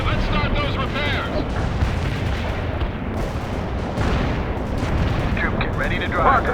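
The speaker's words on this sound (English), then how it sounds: "Napalm strike inbound." Napalm strike explosions in the real-time strategy game World in Conflict, a continuous rumbling roar of blasts with crackling fire and gunfire texture throughout, with radio-style voices talking over it.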